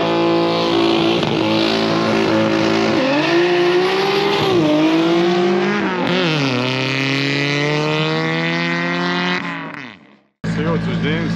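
A 1985 Audi Coupe Quattro turbo race car accelerates hard at a quarter-mile drag event, its loud engine climbing through rising gear pulls with clear shifts before cutting off abruptly, then resuming briefly.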